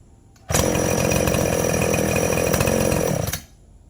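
A gasoline chainsaw engine roars at a steady high rev for about three seconds, loud and close, then cuts off abruptly.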